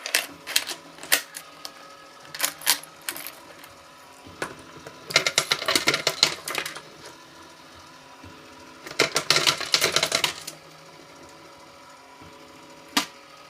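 Coins clatter and drop inside a coin pusher arcade machine, with bursts of rapid metallic clinking in irregular clusters and single clicks between them against a low steady arcade hum.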